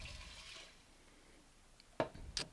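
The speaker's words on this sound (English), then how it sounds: "I'm going to go ahead and add my almost 4 cups of water" Water is poured into an Instant Pot holding black-eyed peas, a soft splashing stream at first that fades to a quiet trickle, followed by two sharp clinks near the end.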